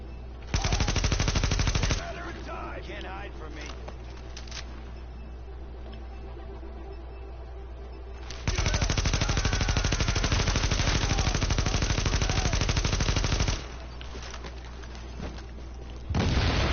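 Machine gun fire in the video game The Division, two long sustained loud bursts separated by a quieter stretch with faint background chatter, and another short burst at the end.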